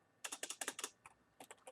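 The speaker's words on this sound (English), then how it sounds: "I'm going to type in presidential" Keystrokes on a computer keyboard while entering a record name in software: a quick burst of about eight clicks, a short pause, then a few more taps, close and crisp.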